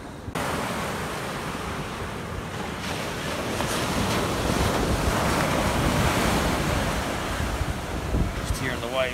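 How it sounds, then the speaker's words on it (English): Ocean surf rolls in at a beach, a loud continuous wash of breaking waves mixed with wind buffeting the microphone, steady for the whole stretch. "Just hearing the waves."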